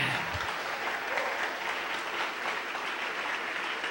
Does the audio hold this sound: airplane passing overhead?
no